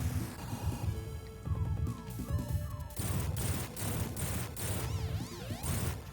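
Rockets in Sonic 3D Blast: Director's Cut, a string of crashing blasts and rapid bursts laid over bright electronic game music and chirping effects, fairly quiet overall.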